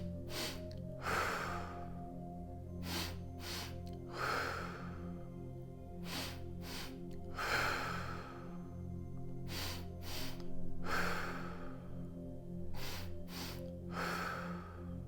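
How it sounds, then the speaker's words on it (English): Slow, deliberate breathing for an anxiety-reducing double-breath exercise: five close, soft inhale-exhale cycles at an even, unhurried pace, with no talking. "We're going to give ourselves 5 breaths."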